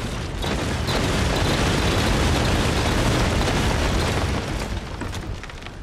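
Explosion sounds from the video game Pacific Drive form a dense, loud, sustained roaring rumble with crackling bursts, steady for several seconds before easing slightly at the end, with no talk.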